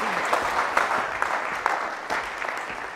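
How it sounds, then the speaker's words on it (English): An audience applauds steadily to welcome a speaker at an entrepreneurship talk, a dense, even wash of clapping from a room full of people with scattered sharper claps standing out. "let's give her a warm welcome and a round of applause for Leslie Grandy."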